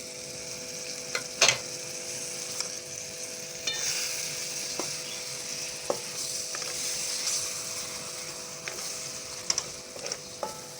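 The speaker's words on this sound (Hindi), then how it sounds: "अब मैं ये टमाटर का पेस्ट डालूँगी" Mutton and spices frying with tomato paste, a steady close sizzle punctuated by clinks and scrapes of a spoon stirring the pan, with no talking.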